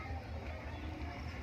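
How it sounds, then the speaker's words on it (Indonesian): A fishing boat's engine comes in toward the shore off a beach in the Thousand Islands, Indonesia: a steady, low rumbling drone heard from a distance, mixed with wind noise. "Nah itu ada suara kapal yang masuk nih, sepertinya kapal nelayan juga nih teman-teman."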